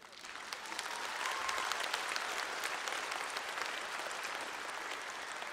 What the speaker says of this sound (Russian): позвольте мне считать ваши аплодисменты поздравлением